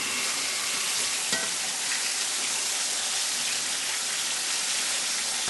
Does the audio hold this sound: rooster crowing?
no